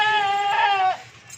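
A goat being loaded for transport lets out one loud, close, wavering bleat that lasts about a second and then stops, leaving only quiet background noise.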